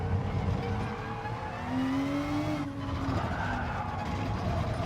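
A Renault Group 3 race car braking hard and skidding in Gran Turismo Sport, the engine note dipping under a rising tire squeal that holds for about a second and a half, then fades as the engine recovers.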